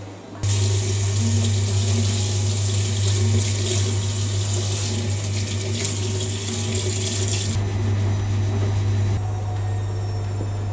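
Shower running in another room of a house, a steady muffled rush of water with a low constant hum beneath it, continuing alone without talk.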